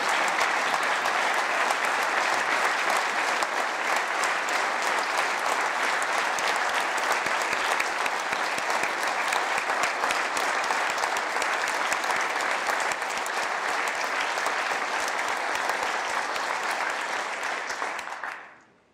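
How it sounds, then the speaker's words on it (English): A large standing audience at a state of the state address applauds healthcare professionals, loud dense clapping that stays steady for a long stretch before fading out quickly at the close. "Would you please give them a round of applause for all of their efforts to the healthcare professionals?"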